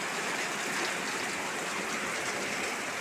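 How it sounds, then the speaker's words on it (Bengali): Heavy rain pours down steadily on a rainy day during home cooking, a dense, continuous hiss that stays loud and even throughout with no voices. "ওই দেখো কত জোরে বৃষ্টি হচ্ছে"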